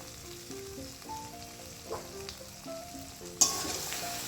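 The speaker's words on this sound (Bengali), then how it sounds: "সব কিছু ভালো করে কষিয়ে নেব।" Chicken curry with spices sizzles in a pan as it is stir-fried, a steady soft frying hiss with faint stirring clicks and a sharper scrape near the end.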